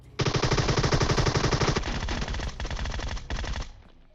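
A Groza assault rifle in PUBG Mobile fires a long rapid burst, then shorter bursts with brief gaps, loud and close, ending abruptly.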